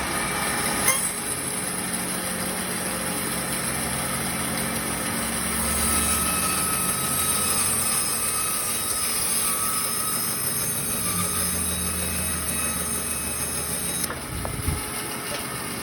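A bandsaw cuts through a black walnut table leg, giving a steady, loud mechanical whine and hum that runs unbroken for the whole stretch, close up, with no talking.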